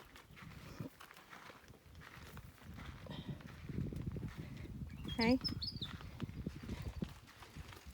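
Horses walk on a farm, their hooves clip-clopping in a loose, uneven rhythm under light wind. A person briefly calls out partway through, and a faint whinny-like cry rises near the middle.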